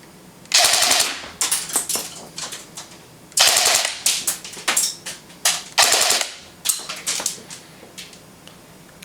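An airsoft gun fires full-auto bursts on an 8.4 volt 1200 mAh mini battery, three long rapid strings of about nine or ten shots a second, each followed by a few short bursts, loud and close with no talk.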